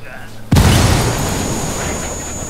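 A heavy grenade blast in the video game Ghost Recon Wildlands booms suddenly, followed by a sustained rumbling roar that slowly fades.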